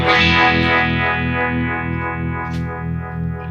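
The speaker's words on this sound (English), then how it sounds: "I've still got a phaser on it. Again, really trebly sounding. I've got more gain," A distorted electric guitar chord rings out with a sweeping phaser swirl, bright and trebly, slowly decaying with a pulsing shimmer.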